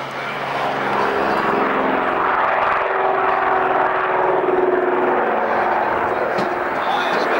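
A de Havilland Caribou transport aircraft making a very slow, low pass at an airshow with its rear loading door open, its steady propeller drone loud and continuous beneath a commentator's voice.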